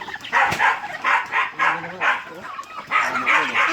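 A dog on a farm barks in short, repeated yips over a busy outdoor background, with bursts coming every half second or so, fairly close.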